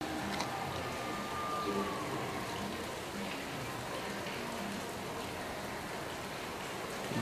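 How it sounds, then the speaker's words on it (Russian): Steady winter rain falls outdoors as a continuous soft hiss with light traffic noise in the background and no clear speech. "Дождик идет."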